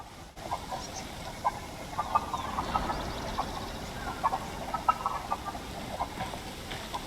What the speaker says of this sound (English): Seriously, what is that weird clucking?